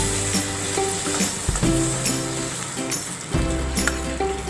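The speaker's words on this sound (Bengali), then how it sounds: "তো এখানে আমরা মাছের মাথাগুলোকে ভালো করে ভেজে নেব।" Fish heads fry in hot oil until golden brown, giving a steady, close sizzle and crackle that runs throughout, with occasional stirring.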